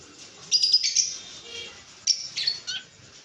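Pet conures and cockatiels kept for sale at home, making two bursts of shrill, close chirps and squawks with quiet gaps between them.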